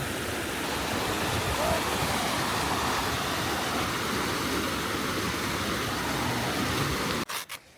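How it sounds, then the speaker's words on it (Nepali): Loud, steady rushing water from a mountain stream on the Tsho Rolpa trek flows continuously close by, then cuts off abruptly near the end with a couple of soft thumps. "यस्तो छ पानीको बहाव पनि त्यति कम त छैन पानीको बहाव"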